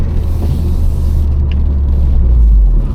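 A car driving on a road gives a loud, close low rumble of engine and road noise inside the cabin, steady throughout with a slight swell near the end.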